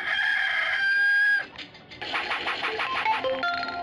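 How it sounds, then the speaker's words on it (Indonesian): Chickens cluck and a rooster crows in the PlayStation game 102 Dalmatians: Puppies to the Rescue: a loud sustained crow, then a run of quick rhythmic clucks close up. "masukkan ayam ke sana"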